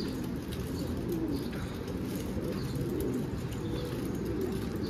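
Pigeons in a large loft coo softly and continuously, a low murmuring flock close by with faint chirps overhead and no voices.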